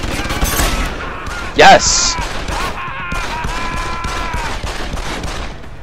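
Sharp gunshot bursts from a first-person stealth shooter, Deus Ex: Human Revolution, fired at guards, with one loud muffled blast mid-clip, over game ambience and an excited shouting voice.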